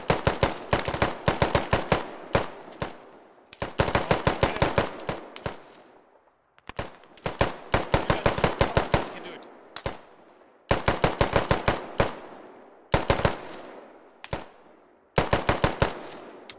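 Automatic gunfire in the military shooter game Squad rattles out in sharp repeated bursts, loud and close, with short pauses between volleys.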